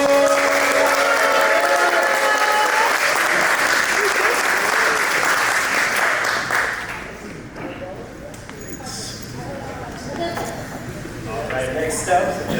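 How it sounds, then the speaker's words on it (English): An audience at a creative summit applauds a speaker, loud continuous clapping with scattered cheers that thins out after about six seconds, followed by talk and a few lingering claps. "let's go ahead and give a warm round of applause for Jeff Rango!"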